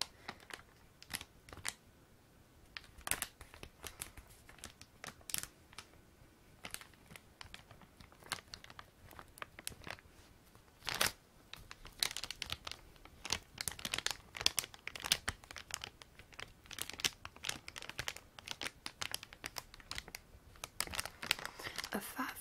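Crinkly American candy wrappers rustle and crackle up close in a continuous run of crisp, irregular bursts, some loud and sharp, others soft, with no talk.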